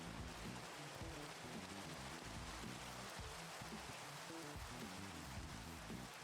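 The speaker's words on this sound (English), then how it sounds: "Or in which it's not, it's just rain." Steady rain hisses continuously at a soft, even level in the Minecraft video game, a constant wash of noise with no voices.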